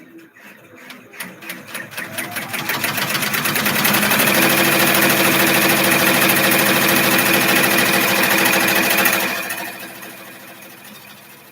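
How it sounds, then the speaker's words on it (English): Embroidery machine stitching a see-through pouch, a steady rapid mechanical chatter that builds over the first few seconds, runs loud and continuous, then drops off near the end, leaving a quieter hum. "Now it's going to start stitching here."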